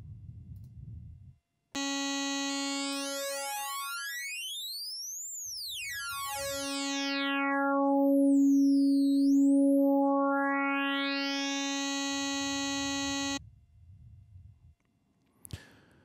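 A bright buzzy synthesizer waveform with formant shift applied sweeps its harmonics up and down in smooth arcs, like a moving filter, sustained for about twelve seconds between short bursts of noise.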